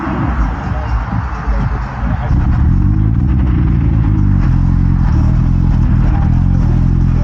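Modified Mazda MX-5 engine idling at a car show, a deep rumbling, throbbing exhaust note that grows louder and steadier after a couple of seconds, close by with people talking faintly nearby.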